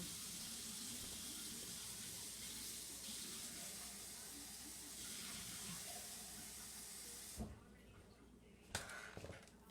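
Tap water runs into a sink in a steady, close hiss, filling a home for a dip powder nail session. It stops abruptly near the end, followed by a couple of brief knocks and splashes.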